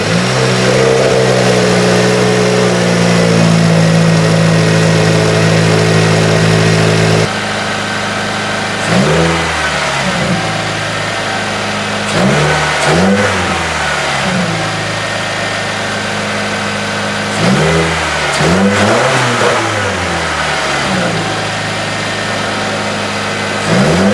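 A 2017 Subaru Forester XT fitted with a Boomba Racing BPV idles steadily, then is revved in several sharp bursts with pauses between, loud and close with no talk.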